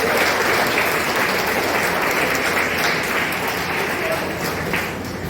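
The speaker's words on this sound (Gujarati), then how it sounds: "આપણે સૌ તેમનું તાળીઓથી સ્વાગત કરીએ" A large audience at a community organisation's gathering gives loud, sustained applause to welcome an arriving service group, with a constant dense roar of clapping that eases slightly near the end.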